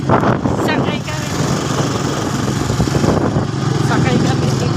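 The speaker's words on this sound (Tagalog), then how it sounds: "Sakay kami dito sa motor." Motorcycle engine droning steadily while riding on the road in Ajuy, Iloilo, a loud, continuous low rumble mixed with wind, with voices talking over it.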